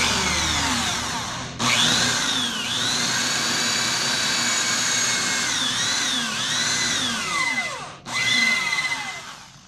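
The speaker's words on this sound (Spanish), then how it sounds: "para que en la marca hagamos centro con nuestra broca. Y vamos a entrar suavemente en nuestro material hasta llegar al tope que colocamos" An electric drill bores a dowel hole into melamine board, a steady loud whine that pitches up and down as the bit bites, with a brief stop and restart near the end.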